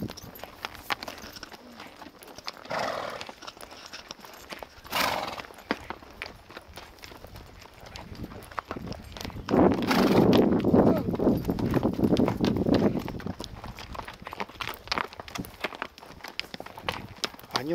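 Horses walk with a close, rhythmic clip-clop of hooves near Rosa Khutor in Sochi. A few louder bursts rise midway, and voices can be heard in the background.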